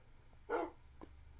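A Minecraft dog gives a single short, clear bark followed by a couple of faint softer yips in an otherwise quiet game scene.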